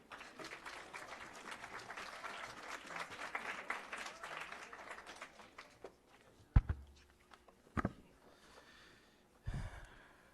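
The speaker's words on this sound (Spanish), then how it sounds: "Un aplauso, por favor." Audience applause at the close of a biotechnology program event talk, a steady wash of clapping for about six seconds that fades, followed by a few isolated loud knocks or footsteps in a quieter room.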